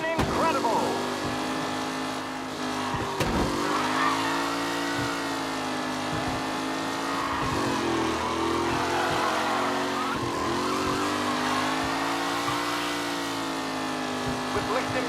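Race cars roaring around a track in Mafia Definitive Edition, with steady engine drones, rising and falling revs, and tire squeals, all under a commentator's voice.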